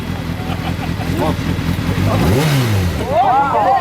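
A motorcycle engine revs up under throttle in rising and falling sweeps, close and loud, while people talk and laugh nearby.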